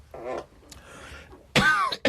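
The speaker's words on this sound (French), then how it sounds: "C'est les amandes qui te font tousser." Coughing brought on by eating almonds: a rough throat-clearing cough, then a pause, then a louder, harsher close cough burst with a short final hack, no speech.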